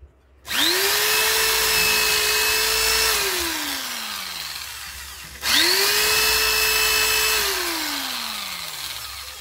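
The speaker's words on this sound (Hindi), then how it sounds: "तो इसमें हम ड्रिल करके देखते हैं कितनी एफिशिएंटली और कैसे ये ड्रिल कैसा ये एक्सपीरियंस हमें देती है" A BUILDSKILL heavy power drill revs twice, each burst whining up fast, holding a steady loud tone for a few seconds, then winding down as the motor slows, close and with no talk.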